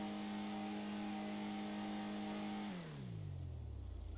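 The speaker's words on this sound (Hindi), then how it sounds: "भाई इसका इंजन साउंड चेक करो गाइस आप लोग यहाँ पे।" In GTA 5, a McLaren 765LT Spider's engine holds a loud, steady high-revving drone, then the pitch drops away smoothly as the revs fall, with no talking.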